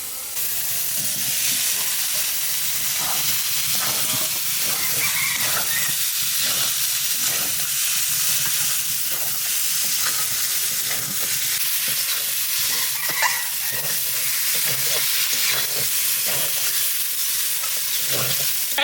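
Spices and potatoes sautéing in a pan for a Bengali fish curry, a dense steady sizzle and hiss with repeated close scraping strokes as the mixture is stirred, continuous and fairly loud with no talking.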